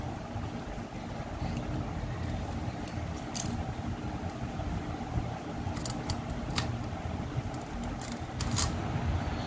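Scissors snipping through material to make homemade snow, a steady scratchy cutting noise with brief sharp snips over a busy low hum.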